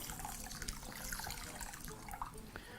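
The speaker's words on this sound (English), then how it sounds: "proceed to add some water" Water is poured into a bowl of rice to soak it, giving a soft, steady splashing and trickling that stays faint and continuous for a few seconds with no talking.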